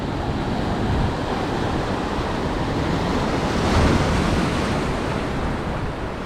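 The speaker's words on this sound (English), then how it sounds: "some big waves splashing in the air." A continuous roar of big ocean surf in Australia with heavy wind noise, waves crashing steadily and splashing into the air, swelling briefly louder partway through.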